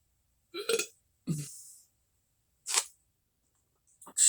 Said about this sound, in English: I'm trying to make room by burping